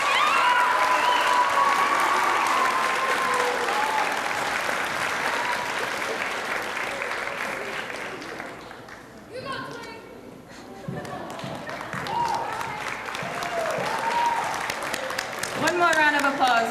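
Sustained audience applause at an 8th grade awards ceremony as honorees head to the stands, a broad steady wash of clapping that dips midway, with voices and cheers rising through it.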